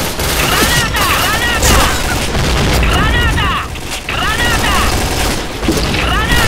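A grenade blast in the shooter game Point Blank, heard within a loud, continuous wash of booming explosions and rattling gunfire, with a voice faintly under the din.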